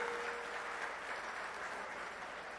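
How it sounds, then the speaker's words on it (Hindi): A crowd at an outdoor election rally in Haryana breaks into steady applause, a dense, even wash of clapping that holds for a few seconds without a break. "उनके लिए भी जोरदार तालियां"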